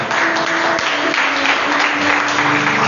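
A church congregation in the middle of a worship service applauds and acclaims the Lord, producing steady, dense clapping that stays loud and even from start to finish, with a few voices faintly mixed into the crowd.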